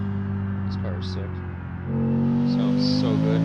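Car engine in the BeamNG driving game, a steady tonal hum that climbs in pitch as the revs rise partway through, with faint chirps and effects layered on top.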